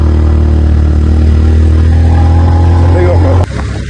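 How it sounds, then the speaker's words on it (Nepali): Motorcycle engine running steadily at a loud, close, even drone during a ride through a village, cutting off abruptly near the end. "अब यहाँ बाइकमा हिँड्न लागिरहेको छु"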